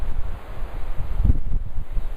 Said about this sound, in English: a little windy because we're moving into the dry season, and the dry season is windier